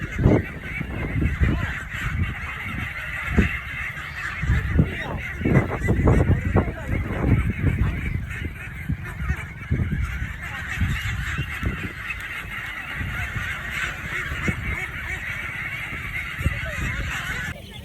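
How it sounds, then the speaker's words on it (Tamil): A flock of ducks and ducklings honks and quacks repeatedly in irregular bursts, loud and close, with a constant background hum. "வாத்து குட்டிங்களை பாருங்க சோ ஸ்வீட் இது"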